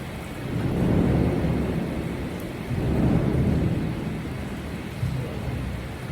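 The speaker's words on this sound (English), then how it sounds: "It's raining here." Steady rain pours down in a dense hiss, with low rumbling swells rising and fading twice. No one speaks.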